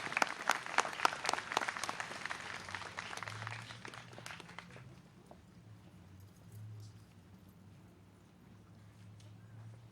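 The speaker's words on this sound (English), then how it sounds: "And can we have a round of applause for our veterans?" Crowd at an outdoor Veterans Day memorial and flag retirement ceremony claps for veterans, a dense burst of sharp claps that thins and fades out after about five seconds, leaving quiet low rumble.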